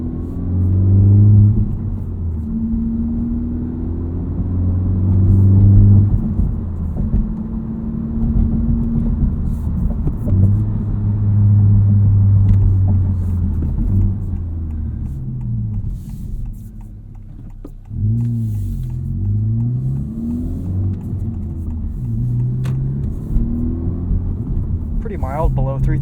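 Exhaust of a 2023 Honda Civic Type R with a muffler delete, cruising below 3,000 RPM: a steady, deep droning rumble from inside the car with gentle rises and dips in pitch, moderately loud and continuous.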